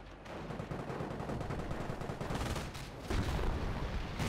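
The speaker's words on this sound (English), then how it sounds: "that rifle nade almost hit something" Dense video-game gunfire crackles throughout, with a heavier burst near the end fitting a rifle grenade blast amid continuous shooting, loud and close, with no talk.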